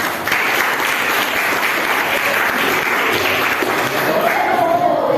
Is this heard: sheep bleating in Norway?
no